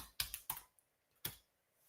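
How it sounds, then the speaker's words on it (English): Sharp keystrokes on a computer keyboard in a quiet room, a quick cluster of clicks, a pause, then one more tap, close and clear with no voices. "Every time I'm going to type his name, I keep typing in Maguire"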